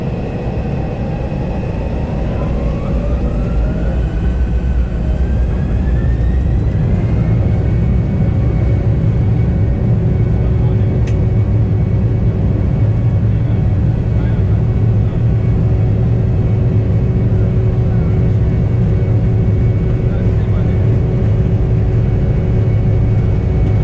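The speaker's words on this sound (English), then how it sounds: "we're going to wind up the engines before releasing the brakes today." Embraer jet engines spool up on the runway at London City Airport before brake release, a loud, steady roar with a rising whine climbing in pitch over the first seconds, then holding as a constant heavy rumble.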